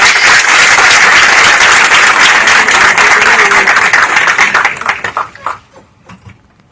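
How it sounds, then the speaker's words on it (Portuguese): Loud, dense applause from an audience at an OAB-RJ solidarity café event, sustained clapping close by that thins into scattered claps and fades out near the end. "Uma salva de palmas"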